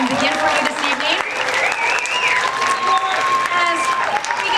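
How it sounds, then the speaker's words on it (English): At a high school spring concert, a crowd applauds the symphonic band with dense, sustained clapping that fills the hall. Voices and a few whistle-like cries rise over it. "Give our Symphonic band a huge round of applause so we can begin for you this evening."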